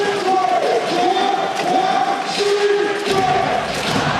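Basketball crowd at Heping Gymnasium during a TPBL play-off game between the Taoyuan Taiwan Beer Leopards and New Taipei Kings, a steady loud roar of fans with shouts and cheers rising throughout.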